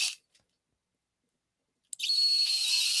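A small hobby drill boring holes into the legs of a miniature figure: a brief high whine at the start, a long pause, then a steady high-pitched whir that runs to the end.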